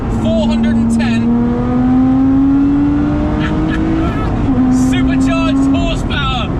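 Lotus Exige 410 sports car with a supercharged engine, revving in a steady rising drone that climbs in pitch, dips briefly and climbs again, loud and close, with someone talking over it.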